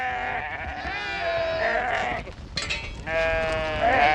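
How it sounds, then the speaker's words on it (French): Sheep in a mountain flock bleat, among them a trained lead ewe, with several long wavering calls overlapping one another, near and fairly loud, with a short lull before the bleating resumes. "comment dresser une brebis meneuse, celle qu'on appelle trisht."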